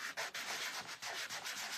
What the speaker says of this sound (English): So I'm just going to take a sanding block.